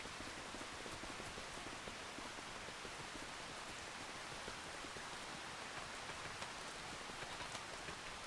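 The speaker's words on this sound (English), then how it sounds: "Oh, wouldn't you know it'd be raining?" Steady rainfall in the Farming Simulator 25 video game, a soft even hiss of drops pattering on surfaces that continues without break and without voices.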